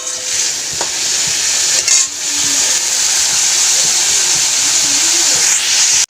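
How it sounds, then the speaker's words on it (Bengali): Shrimp fry in a pan with a loud, steady sizzle and hiss. Occasional stirring scrapes and clinks break through the sizzle, and there is no talk. "আমি এখানে চিংড়িটা ভেজে নিচ্ছি"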